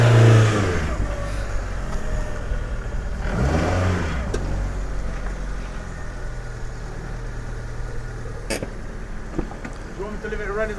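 Fiat 500 C engine idling and pulling away off the road toward a driveway, a steady mid-pitched drone with a brief rise in revs, close by, under intermittent talking.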